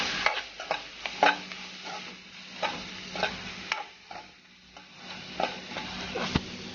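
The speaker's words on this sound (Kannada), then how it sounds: "ಹೀಗೆ ಚೆನ್ನಾಗಿ ಫ್ರೈ ಮಾಡ್ಕೊಳ್ಳಿ." Brinjal masala frying in a pan while being stirred, with repeated scraping strokes of a spoon against the pan over a steady soft sizzle, close and moderately quiet, with no talking.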